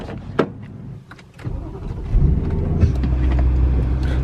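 A BMW M3 cranks and fires up after a few clicks and thumps, its engine catching with a surge and settling into a loud, deep, rumbling idle close by.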